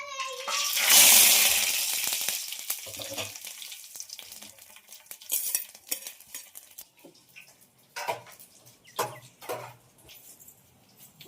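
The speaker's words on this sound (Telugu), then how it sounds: "ఆయిల్ అయితే బాగా వేడైంది కదా, ఇంకా పులావ్ దినుసులు వేసుకున్నాం" Whole pulao spices hit hot oil for a Kurnool-style dish, giving a loud sizzling burst near the start that fades into softer frying, with scattered clinks of utensils against the pan.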